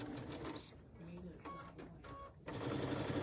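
A sewing machine stitches quilt pieces for a sampler block in short bursts of mechanical whirring, close and moderate, running under and between a person talking.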